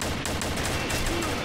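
Rapid M14 rifle gunfire in the shooter game Combat Arms, a dense stream of sharp shots cracking one after another amid continuous loud game noise, with a voice faintly underneath.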